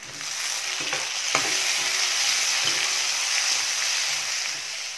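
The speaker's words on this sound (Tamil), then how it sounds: "வெங்காயம் தக்காளி நல்லா வதங்கிடுச்சு" Onion and tomato sautéing in a pan with curry leaves, a loud continuous hiss of frying with a few clinks of stirring near the start, close up and without talk.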